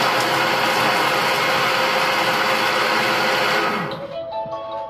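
A kitchen food processor whirs loudly at speed 5 for about four seconds with a steady motor whine, then spins down and stops.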